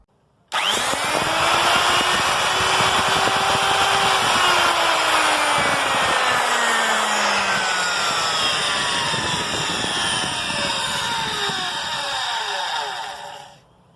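A vintage Rebir circular saw runs loud and close for about thirteen seconds with a steady whining motor hum. Its pitch drifts slowly, then the motor cuts off abruptly.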